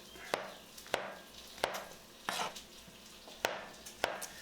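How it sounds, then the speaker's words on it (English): A knife chops mushrooms on a board in separate, sharp thumps about every half second to second, close and fairly quiet, with faint sizzling from a frying pan underneath. "we're going to also get the mushrooms chopped up so that we can get these fried up here in a minute"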